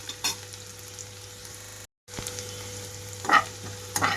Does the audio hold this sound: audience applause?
no